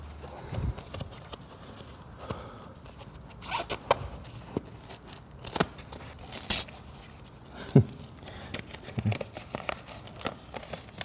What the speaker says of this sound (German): Das können wir mit Schere wegschneiden.